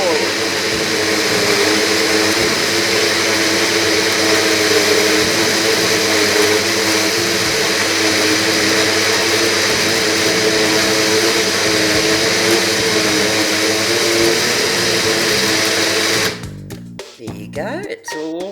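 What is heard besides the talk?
NutriBullet blender mixing eggs and ingredients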